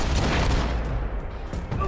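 Propane tanks exploding during a Max Payne 3 gunfight, heard as a dense, loud, continuous rumble of blasts and gunfire filling the whole moment, with a brief dip partway through before the chaos resumes.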